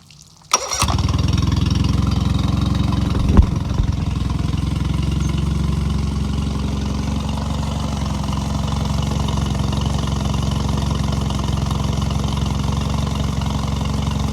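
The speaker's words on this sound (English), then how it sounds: "you are now ready to start your outboard" A 1999-2001 Johnson Evinrude 9.9-15 hp four-stroke outboard motor fires up after a brief starting burst, then runs at a steady, loud, even idle for the rest of the time with no talking.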